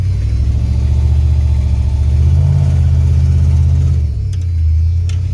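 Stopped car engine running loud and close, its low drone rising in pitch with revs, then settling back to a lower idle.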